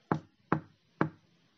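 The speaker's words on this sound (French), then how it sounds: "Il frappe à la porte," Three evenly spaced, close, crisp knocks on a wooden door, each a short sharp rap about half a second apart, alone in a quiet room.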